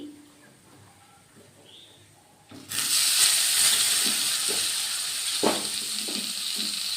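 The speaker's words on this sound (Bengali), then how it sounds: "ভালো করে পটলগুলো ভেজে নেব।" Salted pointed gourd (potol) with a little turmeric drops into hot oil after a quiet moment, and a loud steady sizzle and hiss rises at once, with a few knocks from turning the pieces.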